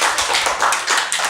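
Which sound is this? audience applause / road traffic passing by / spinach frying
audience applause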